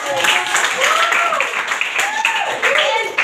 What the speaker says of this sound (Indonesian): berikan aplaus dulu untuk kelompok dua